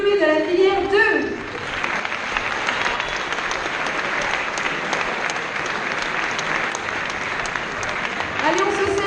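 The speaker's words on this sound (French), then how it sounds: "On peut applaudir une dernière fois les diplômés de la filière 2" Graduates of a school diploma ceremony receive sustained applause from the audience, dense clapping filling most of the clip; a voice is heard at the start and again at the end.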